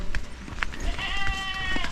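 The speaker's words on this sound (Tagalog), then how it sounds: "May kambing si Piyang dyan mga kabards" A goat bleats nearby with a wavering, drawn-out cry that follows a few short, sharp rural noises outdoors.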